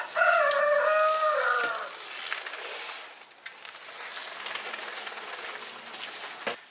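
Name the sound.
rooster crowing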